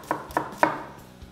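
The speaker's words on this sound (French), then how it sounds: "ciseler l'échalote, ça se passe comme ça" A knife chops a shallot finely on a cutting board while a risotto is being prepared, giving three crisp, close knocks in quick succession followed by a softer fourth tap, with no talking.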